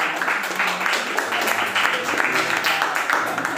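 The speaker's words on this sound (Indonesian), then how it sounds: "tepuk tangan untuk Tania" Classroom applause for a student named Tania, a steady dense patter of many hands clapping throughout, fairly loud and close with no pause.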